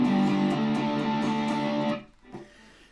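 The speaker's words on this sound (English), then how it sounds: "So the bridge pickup sounds like this." An electric guitar on its bridge pickup strums a bright, full chord that rings steadily for about two seconds, then is cut off, leaving a few faint, quieter notes. No one speaks.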